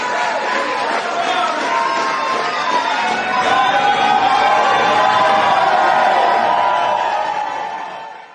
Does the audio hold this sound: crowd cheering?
yes